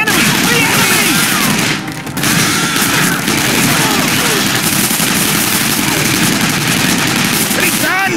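Loud, continuous bursts of automatic gunfire and explosions from the Rambo arcade shooter game, rapid and dense with a brief dip near the start.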